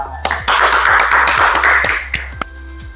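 A school class claps hands in a rhythmic pattern, a quick run of sharp, close claps that blend into a brief flurry and then stop.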